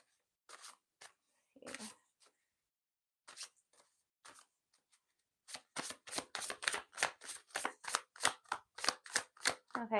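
Tarot cards being shuffled by hand: a few scattered riffles and snaps at first, then a fast, steady run of crisp card flicks building louder toward the end, close by with no talking.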